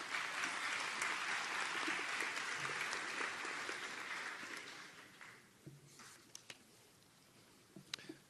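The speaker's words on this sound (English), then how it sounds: "Can we give him applause?" Audience applause at a University of Memphis convocation for a piano performance major, a dense round of clapping that fades over several seconds into a few scattered claps.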